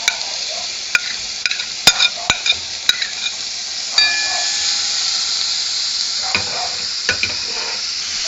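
Onions, tomato and sausages cooking with a little water in a pan for rougail saucisse, a loud steady sizzle and steamy hiss with repeated sharp utensil taps and scrapes against the pan.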